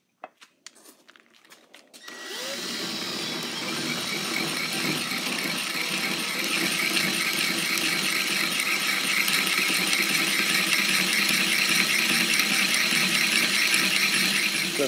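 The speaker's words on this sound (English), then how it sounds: "taking it slow and pushing it with some good force seems to make the nicest cut" A power tool cuts steadily through chassis floor material for a Nova 25.3 build, a few sharp clicks first, then a loud sustained grinding whine that runs unbroken to the end.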